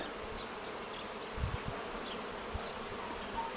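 Honeybees being moved into new hives hum as a steady buzzing swarm close by, with a few soft knocks and no voices.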